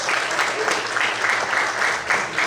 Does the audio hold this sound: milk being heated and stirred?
no